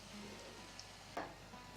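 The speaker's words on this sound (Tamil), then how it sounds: "இது நம்ம நல்லா லோ ஃப்ளேமில் வச்சு ஃப்ரை பண்ணணும்" Soya cutlets fry in a pan over a low flame, giving a faint, steady sizzle with one brief louder crackle partway through.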